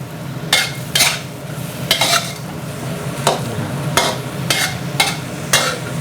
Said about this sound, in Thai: เสร็จแล้วก็เอากุ้งนะครับ ใส่ลงไปเลยที่เราผัด